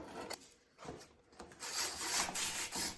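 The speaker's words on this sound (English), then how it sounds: "I had to sand the daylights out of this" Abrasive paper rubs back and forth on a hand-turned wooden desk leg, giving quiet, uneven rasping strokes that build into a steadier scrubbing.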